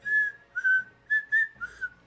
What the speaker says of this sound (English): Simon, you will hear something whistling outside.